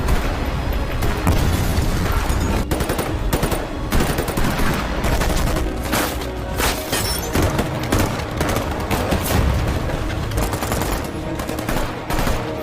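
Film shootout between SWAT officers and robbers with a sniper: sustained heavy gunfire, rapid automatic bursts and sharp single shots with booming impacts, loud and dense for the whole stretch.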